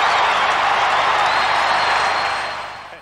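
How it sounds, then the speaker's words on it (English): A large football crowd cheering together in a stadium, a dense, loud, sustained roar that fades toward the end. "Look at that crowd in unison."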